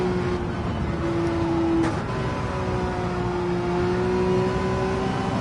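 GT3 race car engine heard from on board the race leader's car in a racing video game at Big Willow, a sustained engine drone holding steady with a brief pitch dip and gear change, then climbing again.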